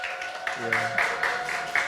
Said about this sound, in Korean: 함께 좀 큰 박수로 좀 맞이했으면 좋겠습니다